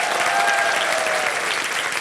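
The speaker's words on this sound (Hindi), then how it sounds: "तालियां इसके लिए।" An audience claps in a dense, steady burst of applause that sounds loud and close and fills the whole stretch.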